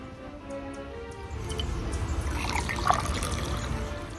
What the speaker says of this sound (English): Let's go ahead and pour this in my glass.